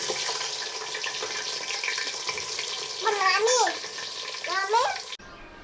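Chopped onions go into hot oil already holding small cardamom pods and whole cumin for a mutton biryani, raising a steady close sizzle that swells as the onions hit the pan, with a brief voice near the end.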